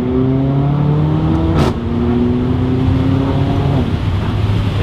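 A Mercedes CLA45 AMG (C117) fitted with an iPE exhaust revs close by, a deep droning engine note that holds steady, briefly dips, then climbs and settles again, loud and unbroken.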